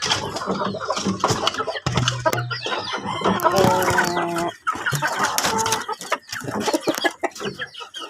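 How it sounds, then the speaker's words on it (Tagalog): Backyard chickens cluck and squawk at feeding time, a busy flock close by with overlapping calls, a few drawn-out crowing-like notes and scattered pecking and rustling. "Kain na naman tayo sa mga lagang manok."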